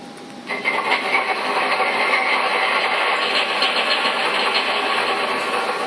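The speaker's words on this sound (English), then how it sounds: "you press the startup key and the engine should come on." Model train engine powered up via a DCS Remote Commander, a brief click followed by a steady, loud mechanical hum and idling rumble that holds at an even level.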